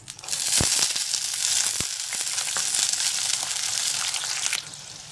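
Green beans deep-fry in hot oil for a restaurant-style veg dum biryani, a loud, close, crackling sizzle with a couple of sharp clinks near the start before the hiss drops away at the end.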